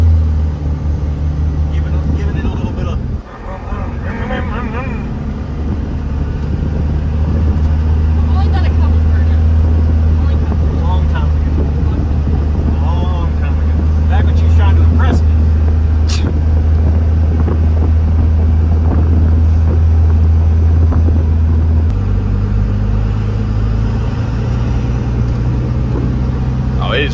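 A Cummins 24-valve truck engine drones low and steady as the truck drives and picks up speed, with a rumbling cabin and people talking over it throughout.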